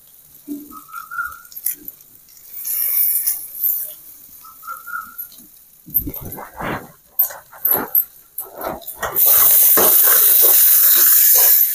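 Ivy gourd with onion chili masala frying in a pan: scattered clinks and soft stirring sounds at first, then a loud, steady sizzling hiss near the end.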